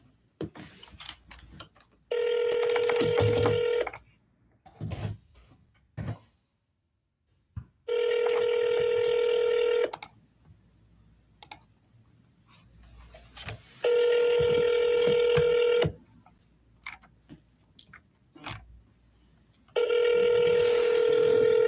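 Four bursts of a telephone ringback tone, each about two seconds long with similar gaps between them, heard while an outgoing follow-up call is placed and the line rings. Faint background noise sits in the pauses and no one speaks.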